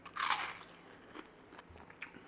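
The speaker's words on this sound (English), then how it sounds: "They're soft, still got a bit of crunch." Crunchy bread topping on a chorizo sausage and bean skillet is bitten into close by, giving one crisp crunch followed by faint chewing crackles in a quiet room.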